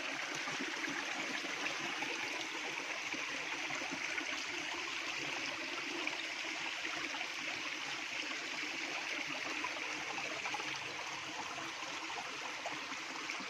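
Clear creek water flows and trickles continuously over stones, a steady soft babbling close by with no voices, unchanging for over ten seconds.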